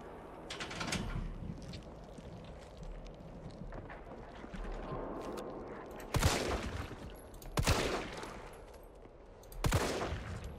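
Gunfire from a weapon in the Resident Evil 3 remake video game: three loud, sharp bursts ring out over a steady, busy game soundscape.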